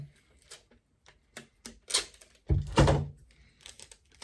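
Packing tape is pulled and pressed onto a boxed iPad, sharp ripping and crackling bursts with soft taps, close and fairly quiet, the longest rip near the end.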